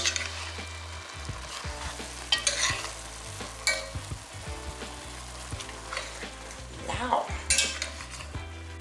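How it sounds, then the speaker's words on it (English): Venison chili gets stirred in a pot on the stove, with a continuous sizzle under repeated scraping and clanking of the utensil against the pot. Louder knocks come every few seconds. "Stir that up a little bit."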